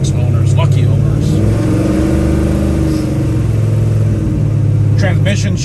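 A 1970 Chevrolet Chevelle drives along with a steady mid-pitched engine drone that rises and settles through gear changes, close and loud, while someone talks over it.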